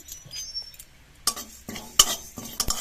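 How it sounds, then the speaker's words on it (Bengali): Coriander and cumin seeds are stirred while frying in a pan, a spoon scraping and clinking against the metal in a few sharp bursts over a quiet background, with no talking. "ধনেটা ভাজতে একটু সময় লাগবে এই জন্য এটা আগে একটু নাড়াচাড়া করে নেব"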